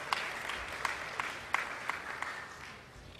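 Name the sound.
audience round of applause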